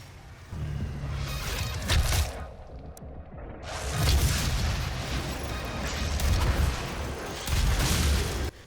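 Shotgun blasts and explosions from combat in the 2016 Doom video game come as heavy, booming bursts in several waves. One brief pause falls between them, with no talking.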